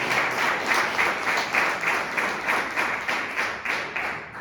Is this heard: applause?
yes